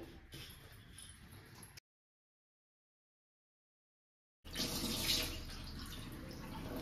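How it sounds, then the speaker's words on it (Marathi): Tap water running while basmati rice is rinsed clean for biryani, a steady close splash that cuts out into silence for a few seconds, then returns louder and continues to the end. "हे स्वच्छ धुवून 1-2 वेळा पाण्यामध्ये भिजत ठेवते एक अर्धा तासासाठी"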